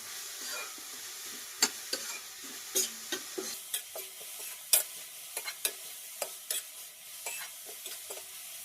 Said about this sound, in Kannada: ಇದು ಸ್ವಲ್ಪ ಚಲೋ ತಂಗ ಎಣ್ಣೆ ಒಳಗೆ ಫ್ರೈ ಆಗಬೇಕು ಎಲ್ಲ ತರಕಾರಿಗಳು